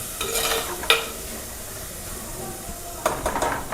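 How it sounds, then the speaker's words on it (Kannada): Chopped tomato frying in a pan, a soft background sizzle with a few scraping stirs near the start and again at the end. "ಈಗ ಆಗ ನಾವು ಟೊಮೆಟೊ ಕಟ್ ಮಾಡಿ ಇರ್ತಲ್ಲ, ಇದನ್ನ ಫ್ರೈ ಮಾಡ್ಕೊಳ್ಳುವ."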